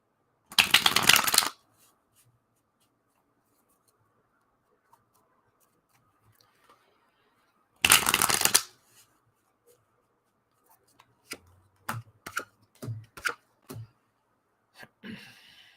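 Tarot cards being shuffled, with two loud riffle bursts separated by quiet, then a run of lighter taps and flicks as cards are handled and laid out, close and clear.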